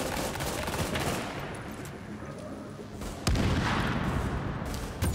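Sustained automatic gunfire in The Division, a dense rattling barrage that jumps louder midway and keeps going to the end, with no voices over it.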